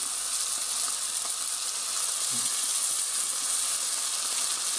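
Crucian carp frying in a pan, a steady, even sizzle and hiss that holds without break throughout, with no voices.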